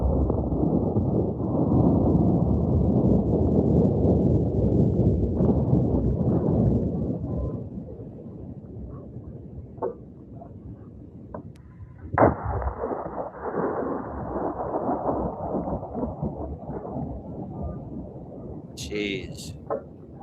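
A 700 Nitro Express rifle failing catastrophically produces a heavy explosive boom, replayed: loud low rumbling energy at the start that tails off, then a sharp crack near the middle followed by quieter knocks, with a voice talking over it.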